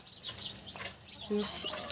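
A broody hen clucks among 51 fluffy chicks of mixed and Cochin breeds, soft peeping and clucking close by with a brief louder squawk near the end, a voice talking over it.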